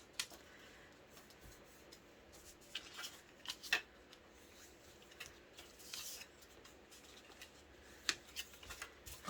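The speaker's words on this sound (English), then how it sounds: "now I'm going to use my bone folder, and I'm just going to run along all of the score lines" A bone folder scrapes along scored paper lines while a gift bag and matching card are being made, giving faint, dry rustling strokes with a few sharper scratchy accents, close and quiet.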